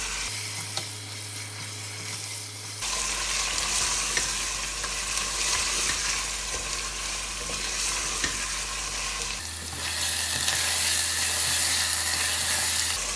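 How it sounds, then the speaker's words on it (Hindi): Chicken liver pieces fry in a pan, a steady loud sizzle with stirring scrapes, continuous throughout with a brief quieter stretch at the start. "अभी हमें कलेजी को फ्राई करते हुए 8 से 10 मिनट हो गए हैं।"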